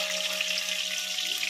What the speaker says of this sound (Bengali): আর এই যে তোমাদের দাদাভাই মাছ ভাজা করছে।